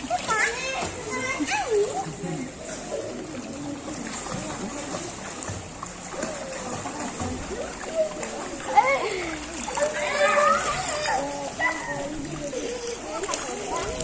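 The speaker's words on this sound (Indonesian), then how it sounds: "Jangan disiram-siram, Bang." Children splash and play in a hotel swimming pool in Bogor, with repeated watery slaps and sloshing under lively kids' chatter and voices throughout.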